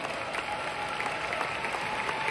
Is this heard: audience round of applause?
yes